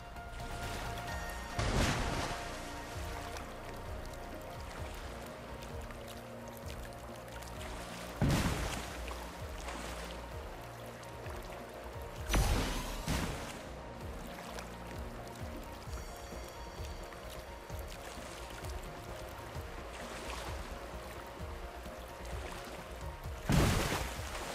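River rapids in the ARK Genesis 2 Downriver Mission game form a constant loud rush of churning water, broken by a few sharp splashing crashes spaced several seconds apart, with no speech.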